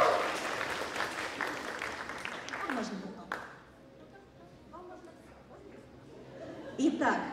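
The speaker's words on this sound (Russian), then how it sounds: "Аплодисменты для Фреи" An audience applauds at a festival opening, the clapping loud at first and then fading out by the middle, with chatter and a speaking voice following.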